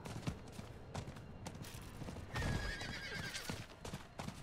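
A horse in Diablo 4 gives a loud, shrill whinny midway through, surrounded by rhythmic hoofbeats of a gallop and scattered game sound effects, with no talking.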